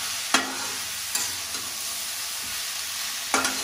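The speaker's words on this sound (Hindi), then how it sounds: "अब इसको लो फ्लेम पे पकने देंगे और सब्जी बन जाएगी।" Vegetable curry simmering and sizzling gently in a pot over a low flame at night, a soft continuous hiss broken by a few sharp utensil clinks against the pot, no talking.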